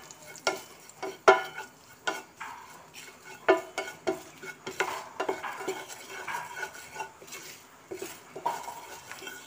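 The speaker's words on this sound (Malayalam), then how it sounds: "ഇതൊന്ന് ഇളക്കി കൊടുത്താൽ മതി കേട്ടോ" A utensil stirs chilli powder masala in a pan for a quail egg roast, giving repeated close scrapes and clinks over a light sizzle.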